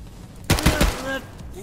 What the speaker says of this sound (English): Did you shoot somebody who was in the doorway?